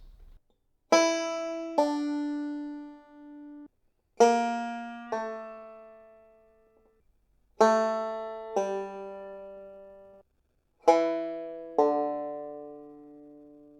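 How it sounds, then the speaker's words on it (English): Four pairs of plucked bluegrass banjo notes, each a sharp pick followed by a quick left-hand pull-off to a lower note, evenly spaced and ringing out between pairs. "a pull-off is when you play a fretted note and then with your left hand you pull off"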